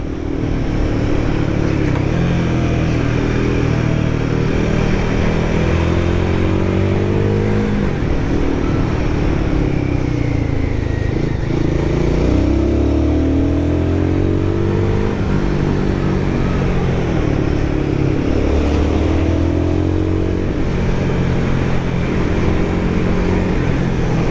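A Royal Enfield Guerrilla 450 motorcycle engine drones loudly throughout on mountain roads, its pitch rising and falling as the revs climb and drop through several gears, lingering around 7,000 rpm, with steady road and wind noise.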